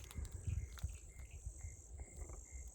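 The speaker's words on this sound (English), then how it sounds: "I can hear a frog." A frog calls in Florida woods beside a wet ditch, giving soft, faint croaks among low rustling and a steady high insect drone.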